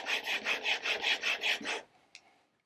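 A steel chisel is rubbed back and forth on a finer-grit sharpening stone, about eight quiet, even scraping strokes in a steady rhythm, then a brief faint tap before silence.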